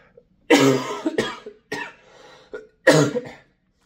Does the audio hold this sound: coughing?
yes